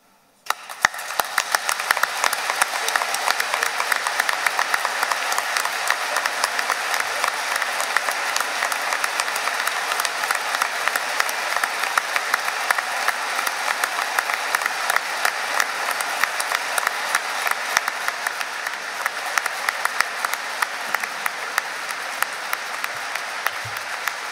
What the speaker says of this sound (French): Les avons applaudis